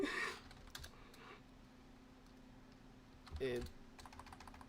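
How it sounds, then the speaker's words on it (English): Rapid keystrokes on a computer keyboard, a quiet steady patter with brief louder bursts at the start and again near the end, with no speech. "I was typing fast."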